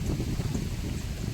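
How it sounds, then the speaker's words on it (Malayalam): Strong wind buffets the microphone outdoors, a steady low rumbling roar with gusty fluctuations filling the short stretch, close and loud with no talk. "ഹൈ നല്ല കാറ്റ്."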